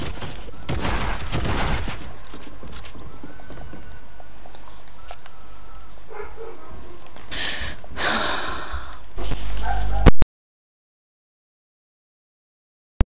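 Shotgun blasts and mechanical weapon clatter in the video game Fortnite, a dense burst of loud shots early, busy action noise, then a few sharper bangs before the sound cuts abruptly to silence.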